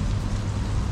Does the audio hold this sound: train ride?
no